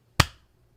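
A single sharp hand clap for syncing a recording, one crisp close transient that decays quickly into near silence.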